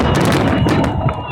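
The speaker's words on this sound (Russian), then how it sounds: "Салют с эффектом неожиданности." Fireworks salute over a Victory Day celebration in Voronezh, with dense crackling bursts and booming thuds packed closely together, loud and near, filling the short stretch with a continuous rumble of explosions.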